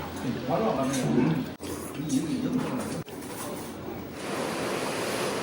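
Ocean surf at Haeundae beach on a foggy day, a steady broad wash of waves with wind noise, under a voice talking while jogging.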